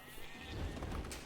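Faint sheep bleating in the video game Age of Empires 2 DE, a single short bleat that sits low in the mix.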